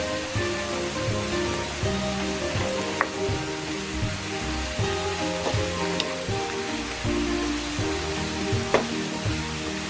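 Bitter gourd fries in a pan with a steady, dense sizzle and crackle that holds through the whole stretch, with occasional sharper pops and no talking.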